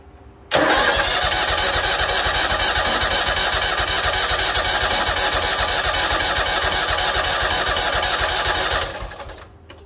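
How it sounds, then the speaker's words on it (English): A John Deere X324 lawn tractor engine cranks and catches at once, running loud and rough with a steady mechanical clatter for about eight seconds before it stalls and dies away. "That's weird that it started and then it stalled and now it won't start again."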